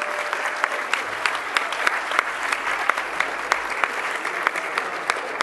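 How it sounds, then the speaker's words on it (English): Audience applause rings out for Dr. David Yeo, a finalist at a Doctor-in-Training of the Year award event, a steady dense clapping with sharp individual claps standing out throughout. "Give him a round of applause"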